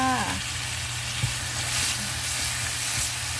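Onions stir-fry in a pan for Korean-style glass noodles, with a steady sizzle and light stirring scrapes over a low background hum.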